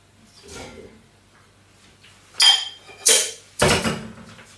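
Chopped rhubarb and plums drop into a pan in three distinct clattering bursts, each a sharp knock of fruit on metal, preceded by a softer earlier rustle, with quiet pauses between.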